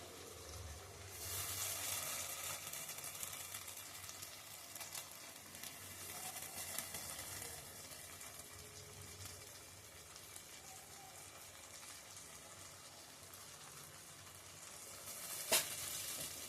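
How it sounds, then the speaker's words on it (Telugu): Masala paste for egg kurma sizzles in oil, a steady close crackling hiss that runs the whole time with a brief sharp clink near the end; no one speaks. "ఈ పేస్ట్ ఆయిల్లో కొంచెం మంచిగా మగ్గాలి"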